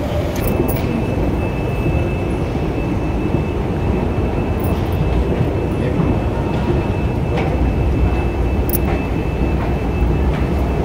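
A metro train runs on the Pune line near Swargate, heard from on board as a steady, loud rumble. A thin sustained whine rides above it and a few faint clicks come through.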